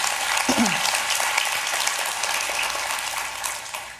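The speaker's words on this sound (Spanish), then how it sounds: "Sí, un aplauso, ¿verdad?" A crowd applauds steadily, a dense wash of clapping with a brief voice near the start.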